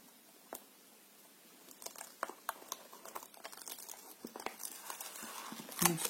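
Quiet crinkling and crackling of Scotch tape being peeled off a box, a series of short sharp rips and snaps growing denser toward the end, with no talking.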